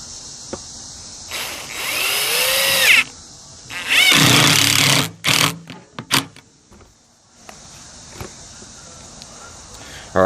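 A power drill driving screws through washers into scrap wood for a carpenter bee trap, two loud whirring bursts with short trailing spurts, close and alone against a quiet room.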